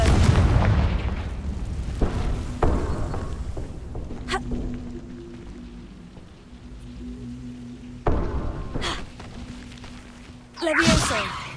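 A Confringo fire spell explosion in Hogwarts Legacy hits with a loud booming blast up front, followed by a few more thudding impacts and rumbling decay, with another burst near the end.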